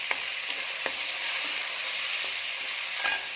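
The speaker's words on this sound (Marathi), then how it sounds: "टोमॅटो देखील छान परतून घेऊया." Tomatoes sauté with browned onions in a pan for Malvani chicken, a steady bright sizzle with a few light spatula scrapes ticking through it, close and even, no voices.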